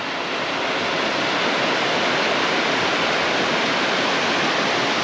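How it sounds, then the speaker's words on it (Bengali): The Ratmohona waterfall at Ghatshila sends water crashing over rocks in a loud, constant broadband roar heard up close, unbroken and with no voices. "এটাই রাতমোহনা সেই ঝর্ণা"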